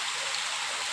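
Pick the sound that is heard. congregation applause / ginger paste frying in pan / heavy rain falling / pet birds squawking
heavy rain falling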